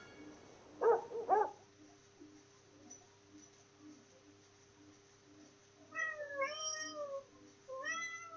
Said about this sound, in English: That's the ginger cat.